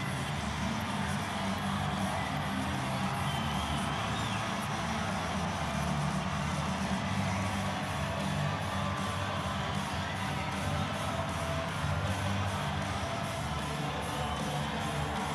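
A crowd of 2,500 hockey fans on their feet at Berglund Center arena during a cup-winning overtime, cheering and whooping in a steady, loud, sustained roar that fills the whole stretch.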